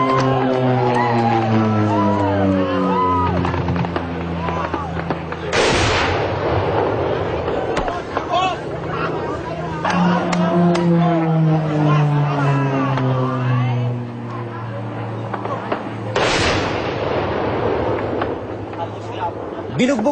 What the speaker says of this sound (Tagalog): Binugbog ng bomba ng Air Force ang pinwestuhan ng MILF sa barangay Baliking, Migsaya.